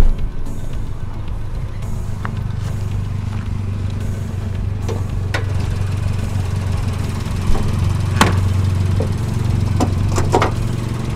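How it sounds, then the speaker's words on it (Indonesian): A 2019 Daihatsu Sigra's 1000 cc three-cylinder VVTi engine idles steadily with the hood open, a low even hum with a few light clicks and knocks on top. "ini adalah mesin 1000 cc 3 silinder VVTi"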